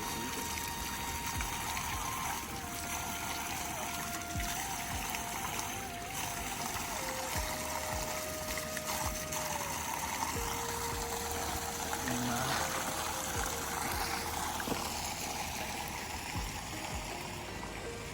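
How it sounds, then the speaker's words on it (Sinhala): Cold, fresh water runs from a small spout into a stream, making a steady, even rush and splash that continues unbroken at moderate volume. "යනකම මෙන්න මෙතන පොඩි පීල්ලක් තිබුණේ"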